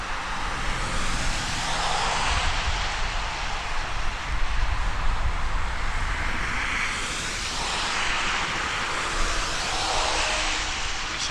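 Jet airliners departing Toronto Pearson's runway 6 left produce a continuous, fairly loud engine roar with slow rising and falling whooshes as the aircraft pass, steady for the whole stretch and with no talk.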